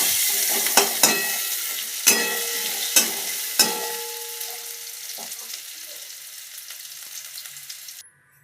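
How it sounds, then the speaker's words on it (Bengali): Loud, close frying sizzle of potatoes in a wok with several sharp scraping strokes of a spatula, the hiss gradually fading before stopping. "আলুগুলো একটু ভেজে নিচ্ছি"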